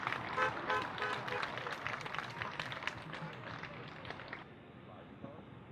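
Applause from an audience at a peace vigil in Vienna, steady clapping held at a moderate level for several seconds before it thins out, with some voices in the crowd.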